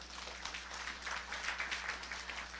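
A church congregation claps briefly during a sermon, a soft, somewhat distant patter of many hands over a low steady hum, swelling slightly before fading.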